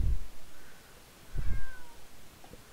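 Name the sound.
cat meowing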